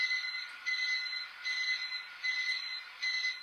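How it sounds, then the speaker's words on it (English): A kitchen alarm goes off in a house where a bear is roaming, beeping in regular repeated bursts of high tones with short gaps between them, moderately loud and with no voices. "As an alarm starts to go off"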